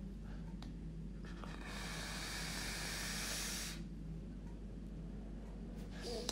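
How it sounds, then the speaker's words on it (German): A Steam Crave Aromamizer Plus RDTA with Tasty Ohm coils, fired at 80 watts, gives a long, close, steady hiss of vapor that swells and then eases off, with no talking. "ich dampfe das jetzt einmal da jetzt auf 80 Watt"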